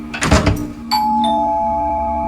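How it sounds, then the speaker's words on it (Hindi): A short clatter comes first, then an electronic doorbell chime rings out and sustains as a steady tone. "तो डोरबेल बजी।"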